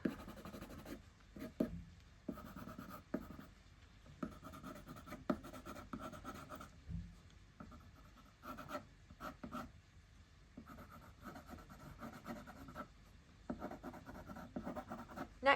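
A Faber-Castell watercolour pencil scratches across paper in a drawing, close and quiet, in a run of short irregular strokes with brief pauses between them.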